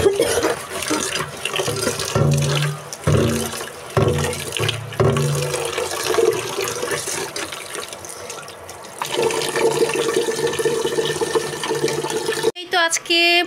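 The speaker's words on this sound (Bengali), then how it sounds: "ভাতের চাল ধুয়ে নিব" Rice grains washed in water, a continuous close sloshing and splashing with irregular pulses of swirling water, fairly loud, ending in a brief clatter.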